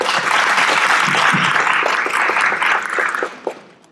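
Audience applause opens the second session of a November startup forum talk concert on TIPS investment, a dense, steady clapping that fills the room before tapering off near the end.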